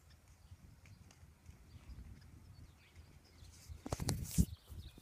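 A big horse walking on hard ground, hooves clip-clopping softly at first and then louder and closer near the end, with faint birds in the background.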